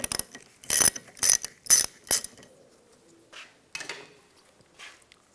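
A ratchet with a 13mm socket loosens the rear wiper arm nut on a Cadillac SRX: four sharp, loud clicking bursts in quick succession, then a few fainter metallic clicks.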